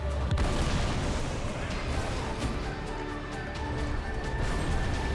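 A limit-break explosion in Final Fantasy XIV booms with a sharp blast, followed by a thick wash of crashing rumble that sustains loudly throughout.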